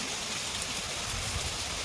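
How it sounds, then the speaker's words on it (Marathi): Heavy monsoon rain pours down outdoors during the rainy season, a steady dense hiss of falling water that runs unbroken and fairly faint, with no voices over it. "ते आता चालू रात्रंदिवस चालू आहे पाऊस"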